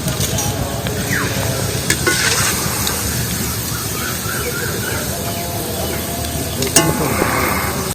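Shoestring potato strips are lifted out of hot frying oil with a steady, close sizzle and bubbling, broken by occasional scrapes and clinks from a slotted spoon.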